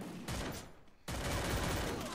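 Bursts of rapid gunfire in the battle royale video game Free Fire, two dense volleys separated by a short lull, loud and close.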